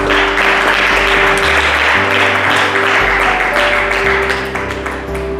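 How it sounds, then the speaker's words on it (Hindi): A church congregation claps together in praise, a dense, continuous applause that holds loudly for several seconds under sustained music, then tapers slightly toward the end. "ताली बजाकर प्रभु की महिमा करें"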